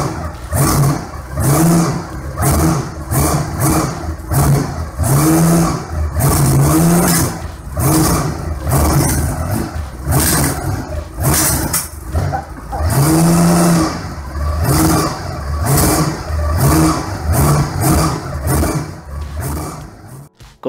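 Homemade Ducati Elenore 868 four-cylinder engine with a single crankshaft, revving hard in steady rising and falling pulls, a loud continuous roar close by with no talking.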